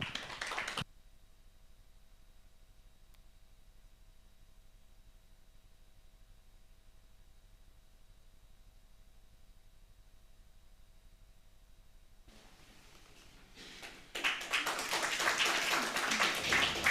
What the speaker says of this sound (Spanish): con fuertes aplausos.